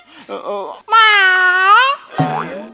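A loud, drawn-out meow with a rising and falling pitch sounds up close, framed by shorter vocal cries before and after it.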